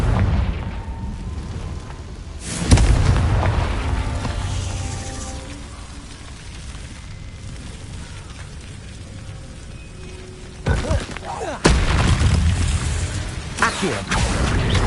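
Confringo explosive spell going off in a Harry Potter video game: a loud blast early on, then a quieter stretch of game ambience, followed by a second burst of booming impacts near the end that rumble on.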